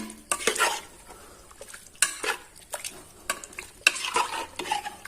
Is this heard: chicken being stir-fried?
yes